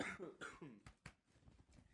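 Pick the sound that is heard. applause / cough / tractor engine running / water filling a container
cough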